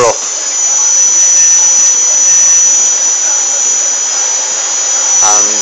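AeroQuad Mega 2560 quadcopter motors power up into a steady, loud high-pitched whine that holds evenly throughout, close by and with no talking.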